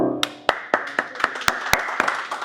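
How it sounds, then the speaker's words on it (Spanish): A small group claps after piano playing, with steady sharp close claps in an even rhythm. The claps start together and trail off over a couple of seconds, with no talking. "Es la primera vez que me aplauden"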